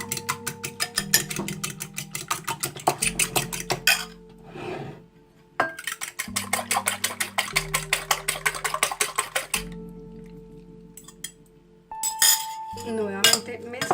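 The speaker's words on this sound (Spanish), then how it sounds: "Y batimos." A grated cauliflower mixture is whisked in a bowl with quick, rhythmic metallic clinks. The bursts of clinking come in several runs, separated by short pauses.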